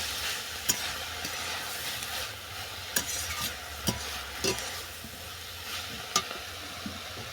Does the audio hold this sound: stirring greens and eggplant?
yes